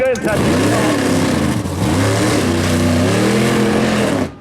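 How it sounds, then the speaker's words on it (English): A loud, lumpy methanol-fueled drag car engine idle hunts, rising and falling in pitch in an uneven, surging rhythm, close by and continuous, at a no-prep drag race. "you can hear that hunting sound that the methanol cars do"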